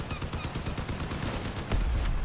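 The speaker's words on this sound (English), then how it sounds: "Is this like this medium machine gun?" A medium machine gun firing rapid, evenly spaced rounds in the vehicle combat game Crossout, a loud, close stutter of shots that grows heavier toward the end.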